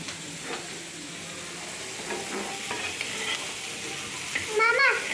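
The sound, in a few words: stirring curry frying in a pan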